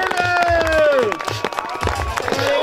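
A crowd at a freeride ski competition in Røldal cheers and claps for a skier, with scattered applause and whoops under a loud announcer's voice.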